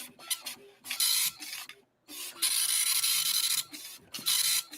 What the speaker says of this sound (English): This is what a dot matrix printer looked and sounded like.